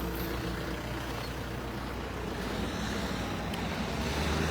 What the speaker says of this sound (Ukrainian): вода витікає от туди, за поворот